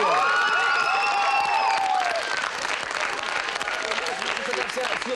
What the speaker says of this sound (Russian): Ну, Аплодисменты.